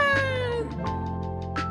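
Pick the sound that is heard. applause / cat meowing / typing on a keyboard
cat meowing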